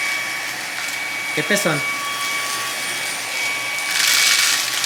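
A cyclone vacuum cleaner with a bucket runs indoors with a steady airy whine that swells louder near the end. A brief spoken phrase cuts in over it.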